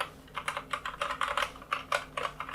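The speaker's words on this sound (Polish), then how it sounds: "posłuchajcie sobie, jak te OUTEMu Brown tutaj pracują." Typing on a Krux Meteor RGB mechanical keyboard with tactile Outemu Brown switches, close, quick irregular bursts of fairly muted clacks with no talking.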